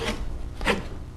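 A utility knife scores the paper backing of a drywall sheet for a wall patch, giving a short rasping scrape near the start and a louder, sharper cut at mid-clip, close and alone.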